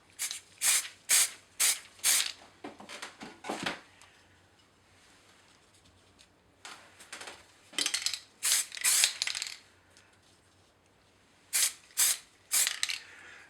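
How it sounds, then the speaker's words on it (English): An aerosol can sprays acrylic lacquer in light coats onto small plastic OO gauge model vehicle parts: short, sharp hissing bursts in quick clusters, separated by quiet pauses. "I've completed the spraying of these three parts."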